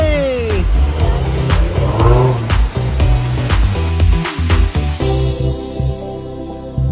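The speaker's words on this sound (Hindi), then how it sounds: "अब हम लोग हैं रेंज रोवर में।" A Range Rover Sport driving through Gurgaon, heard from inside the cabin as low engine rumble with rising revving sweeps and passing road noise, fairly loud, while people talk and react.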